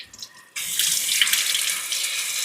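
Warm water runs from a tap through an Aqua Bliss SF100 shower filter: a quiet start, then a sudden, steady, close rushing flow that continues to the end.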